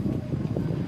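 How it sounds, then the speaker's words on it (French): Light wind buffets a microphone outdoors while someone walks across Paris, a steady low rumble and muffled gusting that runs unbroken through the whole second. "Il y a un petit vent, c'est assez sympa."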